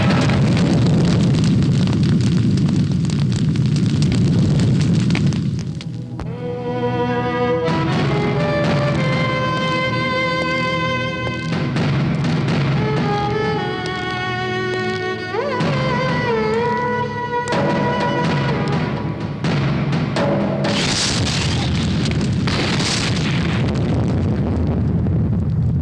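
Booming bomb-blast explosions in a film's city attack scene rumble heavily, with a dramatic musical score rising over the blasts and further bursts near the end.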